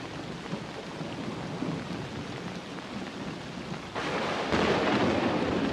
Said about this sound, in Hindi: एक रात बहुत बारिश हो रहा था और तेज बिजलियां भी गरज रही थी